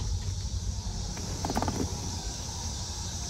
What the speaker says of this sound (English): It doesn't have a loud exhaust or anything. But she purrs. Really good running motor.